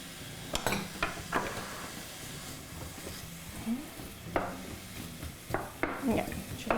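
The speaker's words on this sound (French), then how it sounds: "on va mettre les oignons. Puis c'est ça que j'aime entendre, c'est le ksh" Onions for a pâté chinois hitting a hot frying pan, giving a steady close sizzle with occasional clinks and scrapes of a utensil stirring against the pan.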